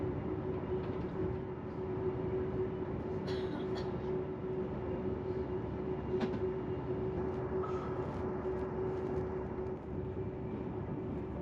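A Brussels to Luxembourg intercity train races at around 160 km/h toward Arlon, a steady loud rumble and rolling roar from inside the carriage with a sustained tonal hum and occasional faint clicks, no voices.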